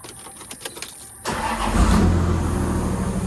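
A Toyota Land Cruiser 80 series, just fitted with a new alternator, has a few quiet clicks before its engine cranks and catches, then settles into a loud, steady idle close by.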